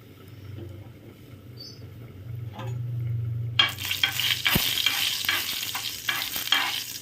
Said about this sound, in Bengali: আমি এখানে দিয়ে দিচ্ছি একটু কালো জিরে ফোড়ন, আর একটা গোটা শুকনো লঙ্কা